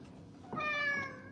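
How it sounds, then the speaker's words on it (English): Black cat giving a single clear, close meow lasting under a second over a quiet room, with no talking. "You're a great Halloween cat."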